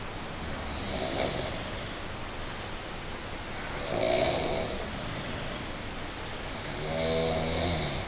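Snoring, three slow rasping breaths spaced a few seconds apart, each a drawn-out grating rumble, close and fairly clear over a low hiss.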